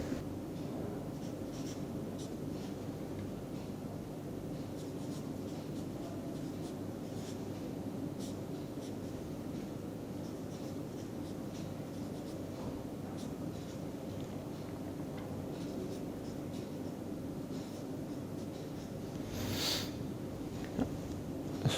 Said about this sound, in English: Let me write down few of these